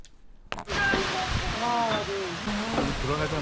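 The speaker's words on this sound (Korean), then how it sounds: "웅장한 천당폭포의 모습이다." Cheondang waterfall in the Cheonbuldong valley of Seoraksan, Korea, a steady, loud broadband roar of falling water that starts abruptly and continues throughout, with faint voices murmuring over it.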